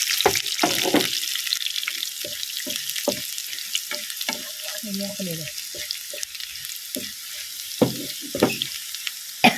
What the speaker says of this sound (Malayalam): ഇനി ഉള്ളി ഇട്ട് കൊടുക്കണേ കുറച്ച് മുളകും കൂടി ഇട്ട് കൊടുക്കാം